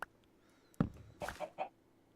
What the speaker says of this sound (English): I just heard a chicken.